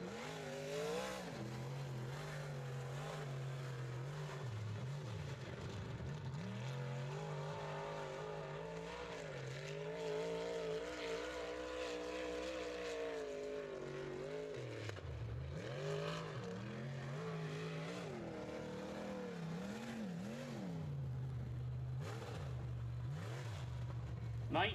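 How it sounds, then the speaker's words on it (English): UMP open wheel modified race car on a solo qualifying lap at Cedar Ridge Speedway, its engine droning steadily and rising and falling in pitch through the turns for the whole stretch, with an announcer's voice over it. "And the last car out of the car number 76M out of Central City, Kentucky, it's Joe Molosky in car number 76M."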